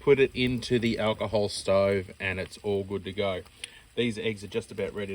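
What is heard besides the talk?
None of the usual background noises is heard.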